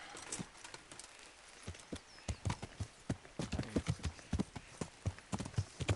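Horse hooves clip-clop steadily on a hard path in the medieval video game Kingdom Come, a close, regular rhythm of sharp knocks with a brief whinny-like sound and no talking.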